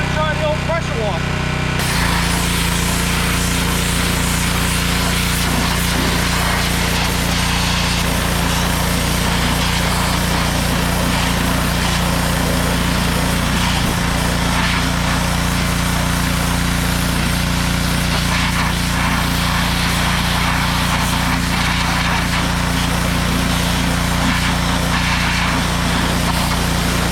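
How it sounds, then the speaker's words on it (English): An old pressure washer runs continuously after a short start, a steady engine drone with spraying hiss used for cleaning, loud and close, with no voices over it. "Now we're just gonna try the old pressure washer."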